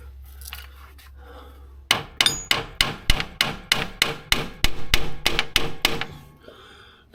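A hammer strikes metal at the rear of a GMC General truck, about a dozen sharp, ringing blows in a fairly steady rhythm, close and loud after a quiet start.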